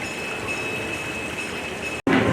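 A ride on the zoo train at the Fort Wayne Children's Zoo in Indiana gives a steady, even rumble with a thin high whine, broken by a brief dropout near the end, and no one speaks.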